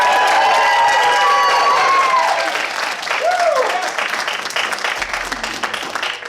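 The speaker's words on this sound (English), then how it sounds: "So when I say players to the front, I need you to clap all together." Audience at an improv comedy show bursts into steady applause with scattered cheers and shouts as the players gather at the front of the stage; the clapping is dense and loud, then thins slightly toward the end.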